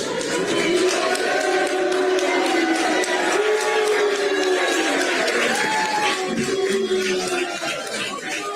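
A large town hall crowd roars with sustained jeering and shouting as Los Angeles Mayor Karen Bass is about to take the stage, a dense, loud, unbroken wall of voices filling the room.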